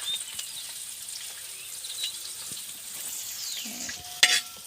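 Dried fish roast fries in a pan with a steady, fairly quiet sizzle, while a spoon stirs it now and then and a sharp scrape and clatter come near the end.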